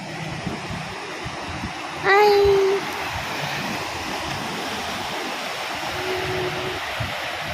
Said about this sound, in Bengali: এতটা ঢেউ চলে এসছে মানে এখন মনে হয় জোয়ার টোয়ার আছে